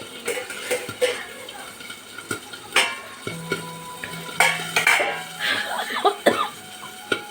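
The lid of a clay pot of boiling fish curry is handled and lifted, giving a string of sharp ceramic clinks and knocks over a quiet bubbling background, with a cough in between.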